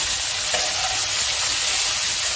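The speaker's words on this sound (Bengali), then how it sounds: "আলু পটলটাকে আমি ভালো করে ভাজা করে নেবো" Potatoes and pointed gourd fry in a pan for a light fish curry, giving a loud, steady, continuous sizzle with little variation and no talking.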